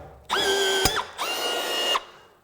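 A Milwaukee M18 FUEL cordless blind rivet tool pulls two aluminum rivets in quick succession, each a loud motor whine rising in pitch, with a sharp snap as the mandrel breaks on the first.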